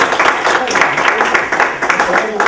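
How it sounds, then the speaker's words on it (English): Applause from an audience at a poetry contest awards event, a dense, steady patter of many hands clapping that fills the whole stretch at an even level. "And a round of applause for Alex."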